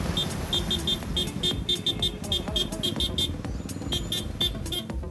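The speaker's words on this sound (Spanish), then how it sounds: "el contingente a su paso hizo sonar el claxon de sus vehículos" Vehicle horns in a caravan sound in rapid, repeated toots over a steady roar of car and motorcycle engines, close and loud, keeping up a broken rhythm throughout.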